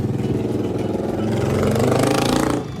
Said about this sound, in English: That is my noisy neighbor with a motorbike.